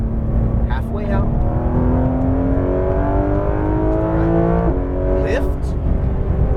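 A Porsche GT3 RS 991.2 engine on a race track holds a steady high drone that shifts pitch as the car accelerates and eases, loud and continuous, with an instructor's voice coaching over it.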